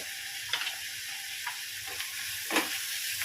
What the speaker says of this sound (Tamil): இது நம்ம கொஞ்சம் மஞ்சத்தூளும் மிளகாத்தூளும் போட்டிருக்கோம். இது கொஞ்சோண்டு வதங்கட்டும்.